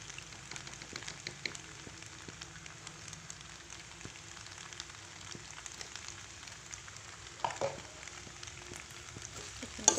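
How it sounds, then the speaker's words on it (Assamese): Food cooking in a pan, a faint steady sizzle with scattered light clicks and a couple of louder scrapes near the end as it is stirred. "এইখিনিতে আকৌ মই ধুনীয়াকৈ লৰাই দিম।"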